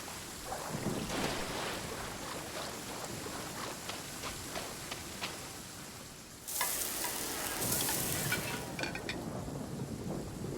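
Fish sizzling on a grill in the video game Genshin Impact, a steady crackling fry with light clinks, swelling to a louder, brighter sizzle partway through.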